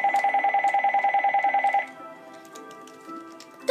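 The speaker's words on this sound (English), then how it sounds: "The phone rings when you're in the middle of a video." A telephone rings with a rapid electronic warbling trill, close and loud, lasting under two seconds before cutting off into quiet room noise with a few faint clicks.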